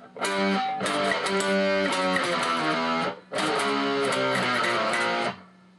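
Distorted electric guitar power chords ring out loudly in two sustained phrases, with a brief gap between them, no voices.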